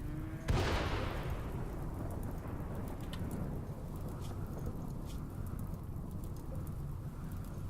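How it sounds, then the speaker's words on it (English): A sharp thunder crack hits early and rolls away in the video game RimWorld, followed by steady rain pattering on a surface for the rest of the stretch. "now it's a dry thunderstorm."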